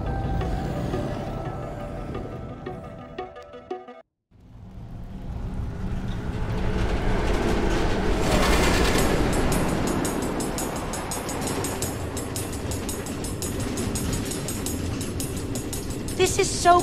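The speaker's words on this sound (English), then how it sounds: "Automated train tracks running all through the Nether, connecting all the different order members?" A train rolls along automated rail tracks through the Nether in Minecraft Story Mode, a steady rumbling clatter that swells after a brief pause, with game music and a voice talking over it.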